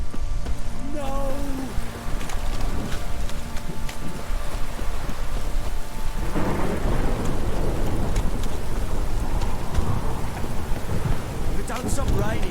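Steady heavy rain pours throughout a scene in The Witcher 3, with a deep rolling thunder rumble building from the middle onward, loud and enveloping with no talk.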